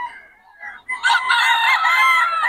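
A Kelso Golden Boy bloodline stag rooster crows once, close and loud, its call rising after a few brief lead-in notes and holding for over a second.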